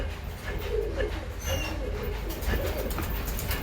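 Pigeons coo steadily inside a breeding room, their low, rolling calls overlapping in a close, continuous murmur with faint chirps above.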